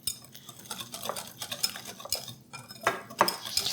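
Flour being stirred together with wet ingredients in a bowl for rosette cookie batter, soft scraping strokes with occasional clinks of a utensil against the bowl, close and fairly quiet, with no voices.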